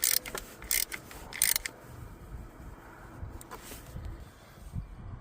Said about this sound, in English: And now I'm gonna tighten up this connection.